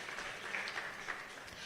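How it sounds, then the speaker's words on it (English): Faint, steady applause from an audience at a university event, a continuous wash of hand claps heard at a distance with no voices. "So a round of applause for yourself for being here."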